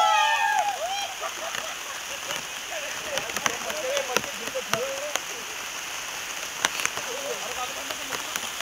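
Steady rain falling outdoors, a constant even hiss with scattered sharper drop taps throughout and faint bird-like chirps in the background.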